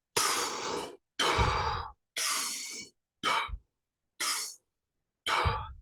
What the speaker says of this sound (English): my breath practice would involve about 10 minutes of what I called cowbunga breathing